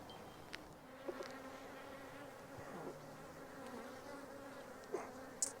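Honeybees buzz around an open hive during a frame inspection with compact brood, a soft, steady hum close by with a few louder passes of single bees.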